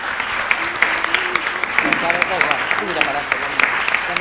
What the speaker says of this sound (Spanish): Les voy a pedir este aplauso, por favor